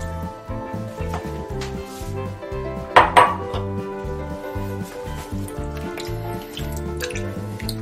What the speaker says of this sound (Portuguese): Dá uma boa mexida pra dar uma desmanchada naquela mandioca que a gente colocou por primeiro.